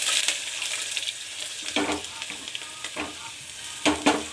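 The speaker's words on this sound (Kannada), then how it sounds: "ನೋಡಿ, ಒಗ್ಗರಣೆಗೆ ಸಾಸಿವೆ, ಕರಿಬೇವಿನ ಸೊಪ್ಪು, ಈರುಳ್ಳಿ ಸಾಕು, ಮೂರನ್ನು ಹಾಕಿ ಒಗ್ಗರಣೆ ಕೊಡಿ." Mustard seeds, curry leaves and onion are tempered in hot oil, with a continuous close sizzle broken by a few bursts of stirring scrapes, and no one speaks.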